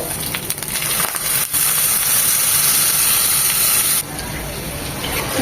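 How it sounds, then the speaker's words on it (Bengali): A paste of turmeric, chili and roasted cumin powders mixed with water fries in a pan for a boal fish curry with turnip and green tomato, a loud hissing sizzle with brief dips as it is stirred. "ভালোভাবে মশলাগুলো কষিয়ে নেব"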